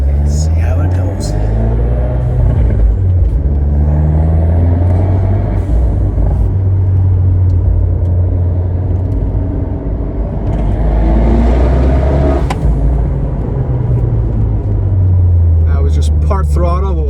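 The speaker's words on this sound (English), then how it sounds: "Part throttle, what was that? 15 pounds of boost." Fiat 124 Spider Abarth fitted with a big turbo, 1446+ upgrade, at part throttle: a deep, steady engine rumble from inside the cabin with a rising pull and turbo whoosh, windows up.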